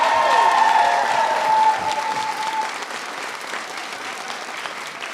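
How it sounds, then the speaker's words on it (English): An audience at a White House event applauds the National Teacher of the Year. The sustained, loud clapping is thickest at the start and eases slightly as it continues. A brief tonal ring fades early on. "please give the National Teacher of the Year a big round of applause"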